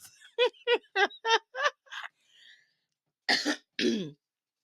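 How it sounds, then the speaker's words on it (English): A run of about six short, harsh coughs in quick succession, close and fairly loud, then a pause and two more throaty coughs. "Y'all excuse me for the coughing"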